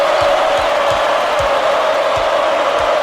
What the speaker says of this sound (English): Listen to the crowd, Vern.